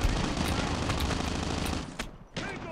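Rapid automatic fire from an AR in Call of Duty Mobile, a dense continuous burst of shots, loud and close, that breaks off briefly near the end and then resumes.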